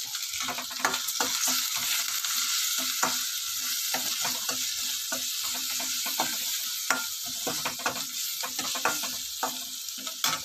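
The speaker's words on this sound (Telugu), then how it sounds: "వేగుతున్నాయి కదండి" Something fries in a pan with turmeric and salt while a brinjal, tomato and green pea curry is being made. A continuous close sizzle is broken by frequent stirring scrapes and clicks.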